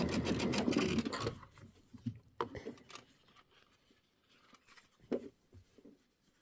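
A sewing machine stitches a Kimberbell Hello Sunshine traditional pieced quilt block in short, uneven bursts of mechanical whirring, loudest at the start and then trailing into brief intermittent runs.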